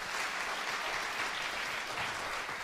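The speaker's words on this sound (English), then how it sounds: "So can we give them a round of applause, guys?" A church congregation claps in a round of applause, a steady, even patter of many hands that sounds slightly distant and fairly quiet, continuing without pause.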